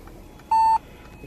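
A 2017 Mercedes-Benz GLE 43 AMG sounds its door-open warning: a single clean, steady electronic beep lasting about a quarter second, loud and close inside the cabin.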